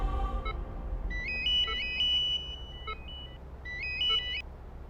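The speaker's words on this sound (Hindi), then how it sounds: "अब देखो किसका फोन है, देखो।" A mobile phone ringtone for an incoming call plays in two short bursts of bright electronic beeping tones, fairly close and clear over a low background hum in a household scene from a Hindi TV drama.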